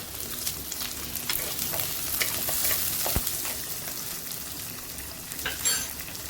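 Shallots and dried red chillies fry in hot oil for a fish curry, giving a steady moderate sizzle with scattered crackles and a couple of sharper pops, no talking.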